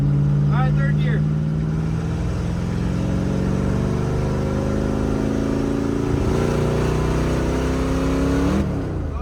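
Dodge Dart V8 with a four-speed manual and nitrous pulling hard in third gear on a dusty run, a loud, steady engine roar climbing in pitch close by, with a voice breaking in over it.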